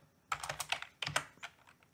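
Computer keyboard being typed on at close range, a short burst of quick, uneven keystrokes clicking alone in a quiet room for about two seconds.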